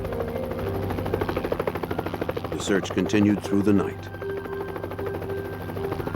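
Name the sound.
helicopters circling overhead during a search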